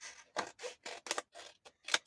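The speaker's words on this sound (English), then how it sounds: "Get your scissors and cut it off." Scissors cut through paper scraps from a worn ready-made mini album, giving a close, quiet series of about eight crisp snipping strokes in an uneven rhythm.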